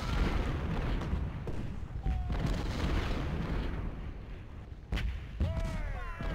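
Artillery guns fire in the Ultimate General Civil War video game, with booming blasts over a dense rumble of battle noise. Shots overlap and recur, and a few whistling tones sound near the end.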